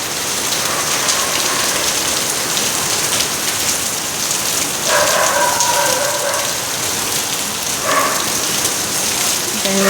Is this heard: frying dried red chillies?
no